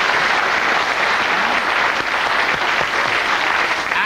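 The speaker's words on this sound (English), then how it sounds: "a big round of applause for Mark Waugh, one of the greatest cricketers of all time" A studio audience on a TV sports quiz show gives a sustained, loud round of applause for cricketer Mark Waugh, a dense continuous roar of clapping throughout.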